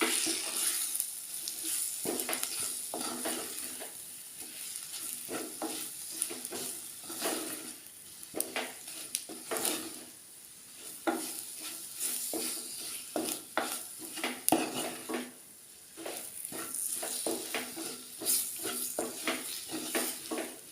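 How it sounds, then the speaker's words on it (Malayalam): Masala with chilli powder sizzles and fries in a pan for a vala fish curry, with repeated stirring scrapes and crackles. The steady close-up frying carries on throughout with no speech. "2 ടേബിൾ സ്പൂൺ മുളക് പൊടി, നന്നായിട്ട് വഴറ്റിയെടുക്കുക."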